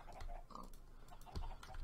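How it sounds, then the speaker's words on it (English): Pigs in the video game Minecraft oink and grunt several times, close and moderately loud, with faint keyboard tapping alongside. "Yep, and the pigs."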